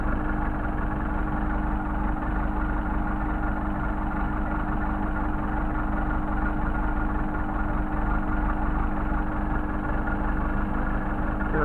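A Mercedes 190SL engine with Solex carburetors runs in a steady, close, continuous low drone at a near-even level throughout, with no voices.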